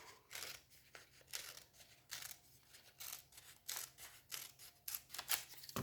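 Scissors snip through paper pieces in quick, crisp, close-up cuts, a steady run of short bursts with brief pauses between them, quiet and with no talking.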